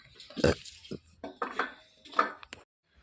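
Kitchen dishes and utensils being picked up and handled: a few close, light clanks and clatters in short bursts, separated by brief quiet gaps.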